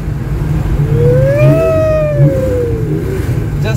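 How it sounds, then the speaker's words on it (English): An air-cooled Porsche 930 SC Targa engine revs once, its pitch rising and falling over a steady low drone, close and loud. "Just love that raw, original Porsche sound. See? Air cool, eh?"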